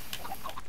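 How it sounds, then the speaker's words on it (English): Chicken clucks from Minecraft, a few short close calls in quick succession within a game farm setting. "let's pretend one of those chickens lays an egg"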